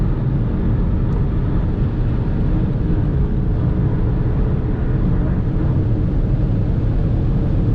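A stock 2018 BMW 320d GT diesel with 190 hp accelerating hard on a derestricted German autobahn stretch, a loud steady roar of engine, tyre and wind noise filling the cabin without a break.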